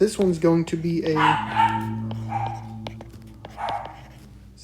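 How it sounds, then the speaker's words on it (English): Dogs bark and yip several times in quick bursts near the start, then keep whining and yelping in the background while someone speaks over them in a home setting. "Sorry for the dogs in the background."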